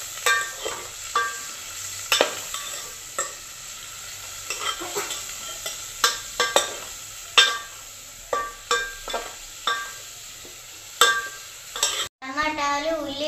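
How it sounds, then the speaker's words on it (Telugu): Ladle stirring tomatoes, onions and green chillies in a hot pan, with repeated sharp scrapes and clinks over a steady sizzle of frying, close and rhythmic, ending in a brief louder clatter. "ఇప్పుడు బాగా మిక్సింగ్ చేస్తుంది"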